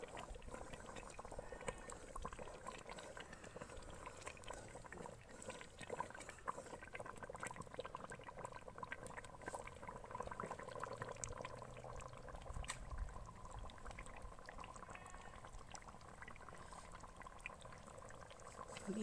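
Cream (malai) simmers into ghee in a pan in a village kitchen, giving a faint, continuous bubbling and crackling fizz that stays even and quiet throughout.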